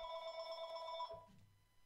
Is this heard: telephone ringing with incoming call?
yes